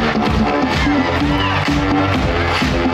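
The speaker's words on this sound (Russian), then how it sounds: "Взрослые аплодировали и смеялись не меньше малышей." Circus audience of adults and children in Karaganda cheering and applauding, a loud, dense crowd roar with whoops holding steady under bright music throughout.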